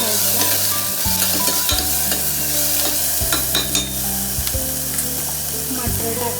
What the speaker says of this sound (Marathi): टमॅटो घालेल, त्याला पण छान असं परतवून घ्यायचं.